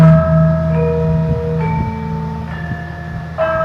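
Gamelan kempul, a hanging gong of a Javanese ensemble, is struck several times in succession in a demonstration of traditional instruments, each deep humming tone ringing on and overlapping the next, with no talking.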